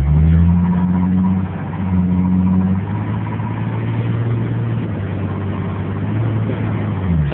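A Ford Mustang V6 convertible drives slowly around a parking lot, its engine humming steadily at close range with a brief rise in revs near the start, no talk over it.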